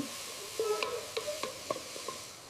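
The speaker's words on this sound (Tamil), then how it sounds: "இஞ்சி பூண்டு விழுது சேர்த்து நன்றாக வதக்கவும்." Onions and ginger garlic paste sautéing in a pan for mutton salna, quiet intermittent spoon scrapes and taps over a low sizzle, with no one talking.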